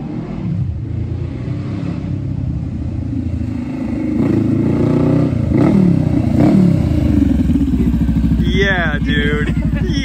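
Honda Rebel 500 motorcycle fitted with a Coffman's exhaust idles loudly, then revs and pulls away for a short lap around a parking lot, its deep burbling exhaust rising and staying close throughout, with people talking over it.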